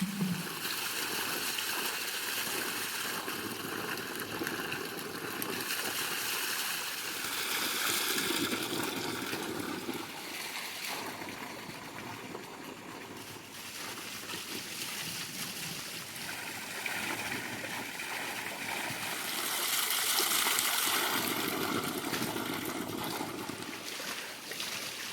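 Hands are washed in stream water after harvesting bamboo shoots outdoors: continuous running, trickling water with soft splashes that swell and fade over about 25 seconds.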